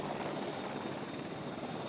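A helicopter carrying the president arrives, a dense, steady rotor and engine roar that fills the short stretch without any voices.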